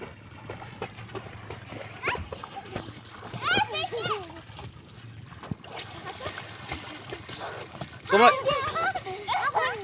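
Village children swim and splash in river water on a char in Bangladesh, with scattered splashes under frequent talk and children's voices nearby.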